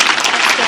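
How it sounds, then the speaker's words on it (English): Audience applause at a university scholarship gala honoring a donor, a dense, steady wash of many hands clapping at close range, filling the whole brief moment without pause. "Yes, great round of applause for her."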